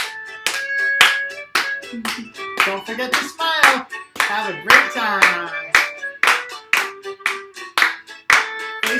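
Partners in a second-grade music lesson clap hands together in a steady rhythmic pattern, sharp and close, over a singing voice and light background music.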